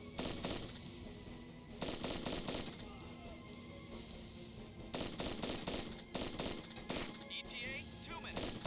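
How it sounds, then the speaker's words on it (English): Missiles explode in the Heavy Gear video game as a faint, rapid series of crackling blasts and popping bursts that come in clusters with short pauses between them. "Warning. Incoming missiles."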